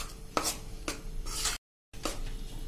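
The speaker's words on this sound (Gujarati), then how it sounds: "આ રીતે આપણે કન્ટિન્યુ થોડોક મિક્સ થાય ત્યાં સુધી ચલાવશું" Jaggery mohanthal mixture is stirred while roasting in ghee in a pan, giving soft, rhythmic scraping strokes about every half second, with a brief silent break before they resume. Fairly quiet, with no talking.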